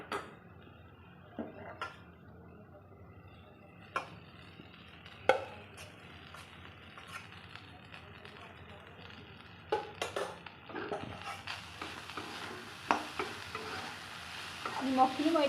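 Cooked rice is stirred into a frying pan for lemon rice, giving a faint sizzle with sporadic spatula scrapes and clinks against the pan. The sounds grow busier toward the end.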